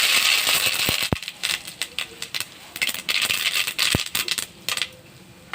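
Dried chillies and mustard seeds hit hot oil for tempering, giving quick crackles and sharp pops in irregular bursts that come and go over a few seconds.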